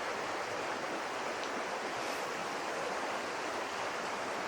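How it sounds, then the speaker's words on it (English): Wind blows over a river outdoors, producing a constant broadband rush of even loudness with no gusts, pauses or voices. "I do notice the wind blowing a little bit"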